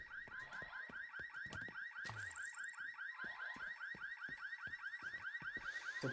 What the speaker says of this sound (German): Ist der Alarm aus.